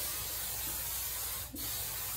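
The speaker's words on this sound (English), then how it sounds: "So I spray it" A single short spray bursts from a spray bottle onto short, natural 4c hair, one quick hiss against a steady background hum, with no talking.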